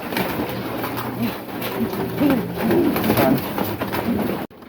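Pigeons coo repeatedly at feeding time in a coop with a hen and a cock, soft throaty calls close by over a grainy background, with no talking.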